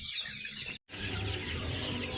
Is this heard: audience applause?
no